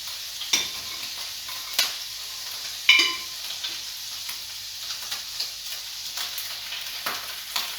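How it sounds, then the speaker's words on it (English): Flour being stirred into melted butter in a pan for gravy, a soft steady sizzle with a few sharper scrapes and taps of the utensil against the pan bottom, close and moderately quiet, no talking. "Mix that into the butter and scrape off those bits from the bottom."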